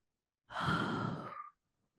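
A single long, deep breath drawn and released during a yoga core class, close and clear, lasting about a second with a soft airy rush and no talking.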